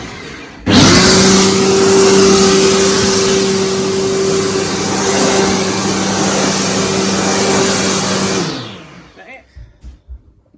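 Flymo 2700W Turbo garden vac switching on indoors over carpet, a loud steady roaring whine with a sustained tonal hum that runs for several seconds before spinning down and fading to a few faint rattles.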